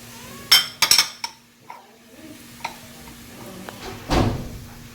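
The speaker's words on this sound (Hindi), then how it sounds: "अब इसको अच्छे से मिक्स करके पकाएंगे" A spoon stirs a homemade tomato ketchup mixture with chillies, vinegar and sugar in a cooking pot, giving a few sharp clinks and scrapes against the metal followed by softer, sparse stirring sounds, close by with no talking.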